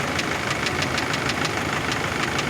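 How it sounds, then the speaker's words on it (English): Chevy Tracker engine idling while an insufficient EGR flow fault is being diagnosed, a loud, steady close-up rumble with a fast regular ticking pulse throughout and no talking. "with the vehicle at idle"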